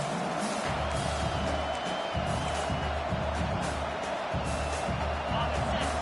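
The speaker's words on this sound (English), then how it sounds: "This crowd bringing the energy and noise early." A stadium crowd at an Oregon vs California college football game roars and cheers in a steady, dense wash of noise that holds throughout, with low rumbling swells beneath it.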